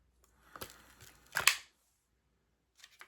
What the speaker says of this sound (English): So let's spray a little and then we'll compare side by side.